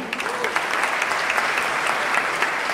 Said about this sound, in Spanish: Recibamos con un fuerte aplauso a Fabio Zuleta.